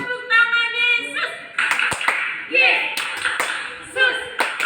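Children clapping along to a song during a Sunday school service, sharp rhythmic hand claps punctuating sung voices at close range.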